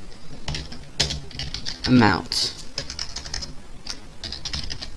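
Close, rapid clatter of computer keyboard typing while Java code is entered, with bursts of keystrokes under someone talking.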